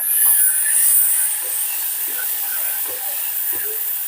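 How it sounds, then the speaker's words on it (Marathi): Finely chopped onion sizzles in hot oil while being fried to golden brown for a capsicum and potato dish, a steady bright hiss running throughout with faint sounds underneath. "बारीक चिरलेला एक कांदा टाकतेय मी कांद्याला सुद्धा गोल्डन ब्राऊन कलर येईपर्यंत मस्तपैकी परतून घ्यायचं आहे तेलात"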